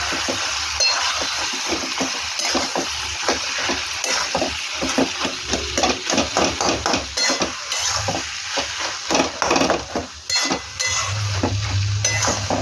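Potatoes sautéing in a pan with dried fish, a continuous sizzle under rhythmic scraping and stirring strokes of a spoon, with occasional clinks against the metal pan and no talking.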